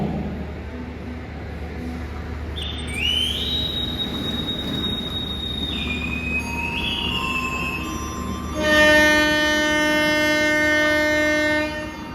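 The Sri Tanjung passenger train, pulled by two locomotives, departs Madiun station, rumbling along with high metallic wheel squeals, then a loud, sustained horn blast sounds near the end.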